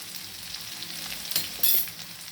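Garlic and chillies fry in a pan in a continuous close sizzle, with brief louder crackles and a stirring scrape near the end, and no one speaking.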